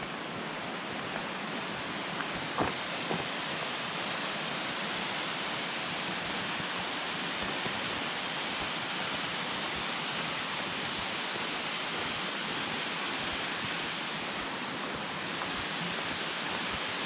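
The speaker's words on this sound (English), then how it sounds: "Coming up on another waterfall." Steady roar of a waterfall on Deep Creek in the Great Smoky Mountains, a continuous broadband rush of falling water heard close and loud for the whole stretch, with no talking.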